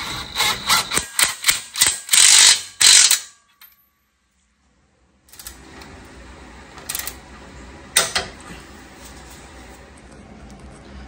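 Ratchet wrench cranking a castle nut down on an upper ball joint of a 2003–2015 Nissan Titan, a quick run of sharp clicking bursts, then a pause and a few scattered clicks and clunks against a low garage hum.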